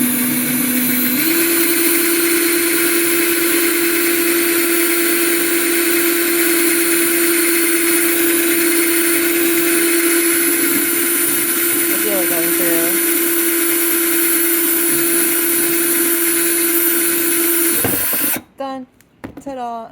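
A drill with a diamond hole saw bit whines steadily at high speed for most of the clip, grinding through a pot, then cuts off near the end with scraping and handling noises.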